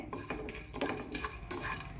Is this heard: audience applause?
no